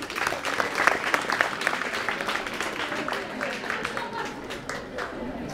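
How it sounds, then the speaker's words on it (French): Audience applauding at a school event with students, a steady wash of clapping from a crowd that continues throughout without pause. "Je veux qu'on les applaudisse fort."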